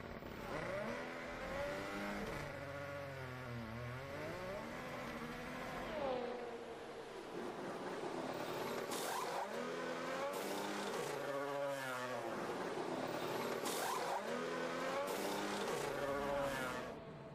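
Race car engines rev and howl through a pit stop with tire change and refuel, pitch swooping up and down as cars accelerate, with tire squeal; loud, continuous mechanical roar with no talk.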